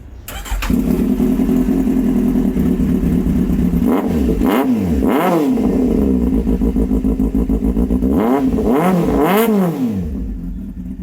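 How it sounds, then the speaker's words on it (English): A Kawasaki Z800 superbike fitted with an SC Project exhaust idles loudly and close by, then is revved sharply in two pairs of blips. The engine settles back to a steady idle each time and fades at the end. "आपको सुनाता हूँ मैं एक Z800 with SC प्रोजेक्ट की आवाज़"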